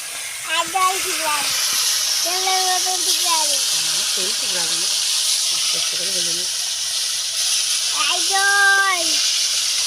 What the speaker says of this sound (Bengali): মাছটা আবার ভেজে নিচ্ছি